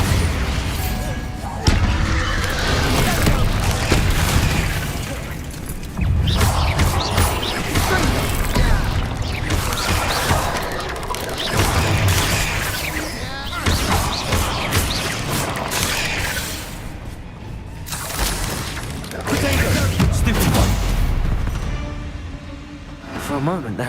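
Loud, dense rumbling blasts and crashing impacts from Bombarda spells in the Hogwarts Legacy video game, layered with game music and effects and continuing almost without a break.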